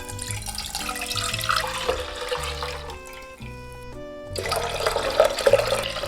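Soy sauce, water and sugar pour into a cooking pot as a steady liquid splash over roughly six seconds, under a layer of tonal background music.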